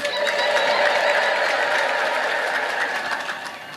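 A church congregation ululates in sustained high trills of praise, a loud, dense crowd sound that swells and then slowly fades.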